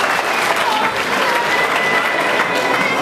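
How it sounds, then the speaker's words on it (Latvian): Sustained, loud audience applause fills a 2013 Latvian motocross championship award ceremony, a dense, even patter of many hands clapping throughout. "Aplaus labākajiem!"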